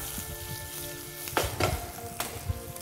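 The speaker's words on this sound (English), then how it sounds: "So green chilies into my pan." Loud crackling sizzle of green chilies dropped into hot oil in a frying pan, with sharp spattering pops over a steady frying hiss.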